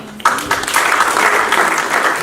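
Audience applause fills the hall at an Urdu mushaira in London, starting abruptly and holding as a loud, steady, dense clapping for about two seconds.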